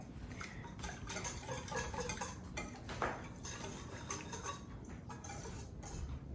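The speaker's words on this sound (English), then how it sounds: "so we'll just stir that up. Make sure it's nice and stirred in there." A spoon stirs cochinita pibil ingredients in a slow cooker, making a continuous scraping, clinking churn at close range with a few slightly louder knocks and no speech.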